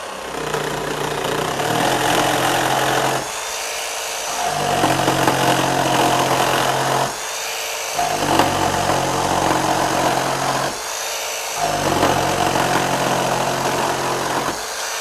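A RIDGID 18V cordless sub-compact barrel-grip jig saw set to orbit 3 cuts through wood in a loud, steady buzzing rasp, with three short pauses as the blade is repositioned between passes.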